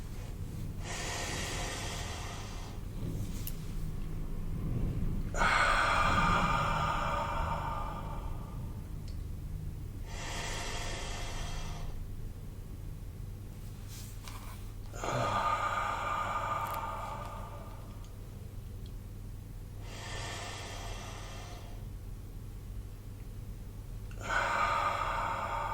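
Deliberate, loud breathing exercise with slow inhales and exhales through the nose and mouth, each breath lasting a few seconds, separated by quiet holds, repeated about six times in a steady, close rhythm.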